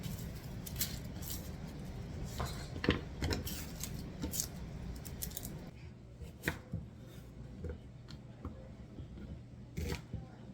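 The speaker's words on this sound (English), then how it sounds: "I chop up some onion that I'm going to saute" A knife chops onions on a board in a quick run of sharp, close taps, busy at first and then more scattered, with a low steady hum underneath later on.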